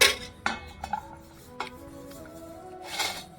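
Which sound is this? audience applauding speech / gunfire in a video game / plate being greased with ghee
plate being greased with ghee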